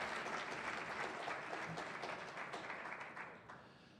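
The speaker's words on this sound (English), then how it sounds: "Please join me in giving a round of applause for our corporate sponsors." An audience at a civic forum applauds corporate sponsors, making soft, distant, continuous clapping at low volume that fades slightly toward the end.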